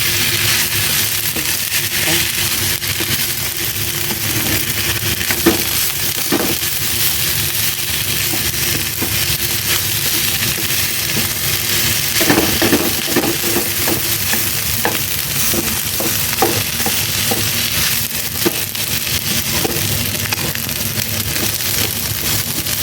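Fried rice with crab meat sizzles loudly in a pan while being stirred, with continuous frying crackle and occasional scraping of the spatula against the pan, close and without talk.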